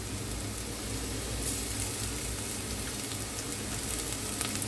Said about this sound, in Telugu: ఉల్లిపాయలు బాగా వేగిద్దాం పెద్దగా. చూడండి ఫ్రెండ్స్, ఉల్లిపాయలు బాగా వేగాయి.